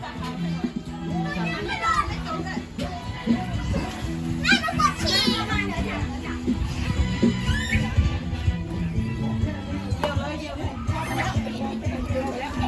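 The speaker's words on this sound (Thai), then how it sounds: "เด็กเล่นน้ำ" Many children play in the water at a lake, with shrieks, shouts and excited chatter mixed into a busy, continuous crowd hubbub, some voices near and others farther off.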